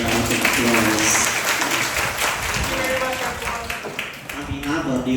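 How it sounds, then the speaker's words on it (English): Conference attendees applaud after a morning presentation at a TESOL teaching conference, a steady round of clapping with voices mixed in throughout. "please give him another round of applause"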